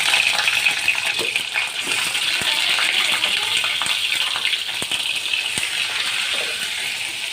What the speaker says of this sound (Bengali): ডিমটা রান্না করার জন্য এই যে ভেজে নিব ডিমটা ফেলে দিয়ে দিলাম